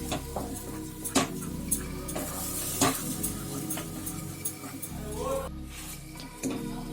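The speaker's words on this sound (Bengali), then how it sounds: "পুর কষাতে যেহেতু একটু সময় লাগে, তাই ক্রমাগত পুরটাকে নাড়াচাড়া করে যেতে হবে।" Pea kachori filling being stirred and cooked in a pan, with repeated scraping and tapping of a spoon against the pan over a low sizzle, close and moderately loud, continuing steadily throughout.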